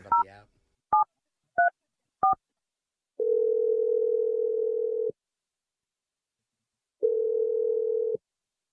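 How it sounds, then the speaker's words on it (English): Four quick touch-tone beeps are followed by a steady telephone dial tone that stops, then sounds again after a pause. It is clear and close, with no voices. "I'm going to dial his number right now."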